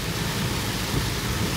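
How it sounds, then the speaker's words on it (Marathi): Heavy monsoon rain pours in Lonavala, a dense, continuous roaring hiss at steady loudness with no voices. "तुम्ही आवाज सुद्धा ऐकू शकत असाल, जोरदार मुसळधार पावसाचा आवाज"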